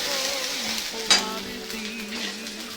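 Rohu fish being stirred in a pan with turmeric and chili powder gives a steady, close sizzle with a sudden burst of spattering when the pieces are turned, then settles back to even frying.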